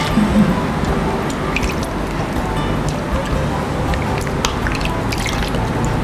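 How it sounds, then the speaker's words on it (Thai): Water splashing and dripping as hands and feet are washed, a continuous close wet sloshing with soft drips, with a voice faintly present in the background. "ก็จะล้างเท้าล้างมือก่อน ล้างเท้าล้างมือก่อนนะคะ"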